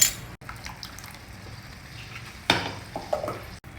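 A spoon stirs ground masala into a vegetable curry in a pot, giving soft scraping and a few light clinks. One louder clatter comes partway through over a low, steady background.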